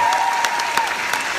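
Audience applause at a stand-up comedy show in Russia, a steady dense wash of clapping across the whole short stretch with no voices over it.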